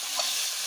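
Broth hits a hot frying pan holding a dal bora curry base with ground ginger, giving a brief, steady hiss of sizzling, close and fairly soft.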